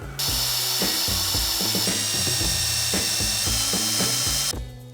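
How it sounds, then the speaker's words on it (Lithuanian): A power drill whirs loudly and continuously for about four seconds, its pitch shifting in short bursts and ratcheting stutters as it bites, close up, before stopping abruptly. "bandom gręžti"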